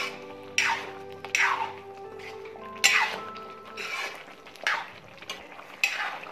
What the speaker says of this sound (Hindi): अच्छी तरीके से इसको मिक्स करना है